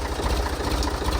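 A tractor engine idles close by with a steady, low, throbbing rumble and no change in pace over the short stretch.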